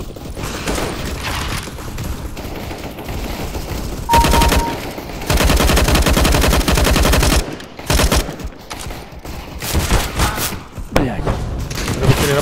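Dense gunfire in the game CS:GO, with rapid automatic bursts and sharp heavy shots packed together, loud and nearly continuous, broken by brief pauses, while someone talks over it.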